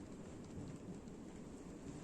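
Steady rain falls outdoors on rocks by the water while fishing, a soft, even hiss with no breaks, faint and distant.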